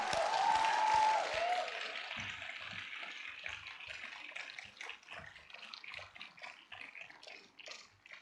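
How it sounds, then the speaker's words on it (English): An audience at a university convocation ceremony applauds a graduate, a dense wash of clapping that starts full and gradually thins and fades over several seconds. "Give a round of applause for Iba"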